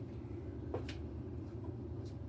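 Air conditioning unit running with a steady low droning hum throughout, faint and unchanging, with a couple of light knocks in the background.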